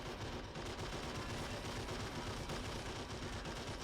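Heavy machine gun fire in the real-time strategy game Men of War Assault Squad 2 during a 1v1 multiplayer match: a dense, continuous rattle of rapid shots, loud and unbroken throughout, with no talking.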